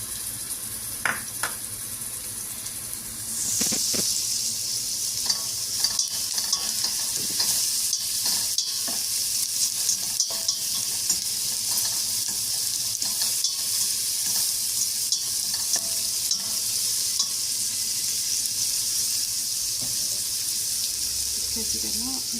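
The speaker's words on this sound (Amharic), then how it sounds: "ሽንኩርት እየበሰለች ነው።" Onions fry with a steady loud sizzle in a pan while being stirred with frequent scraping clicks, with a brief voice at the start.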